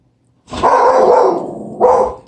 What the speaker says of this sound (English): She's barking at other dogs walking by.